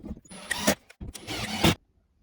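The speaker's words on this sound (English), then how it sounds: "Screw these brackets in." Wall brackets are screwed into drywall anchors with supplied screws, two close, buzzing bursts of a powered driver separated by a brief pause, then silence.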